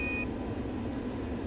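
A short steady electronic alarm beep from an F-86 Sabre cockpit in the DCS flight simulator, warning that the throttle is at minimum, sounding briefly and clearly over a constant engine and air rumble.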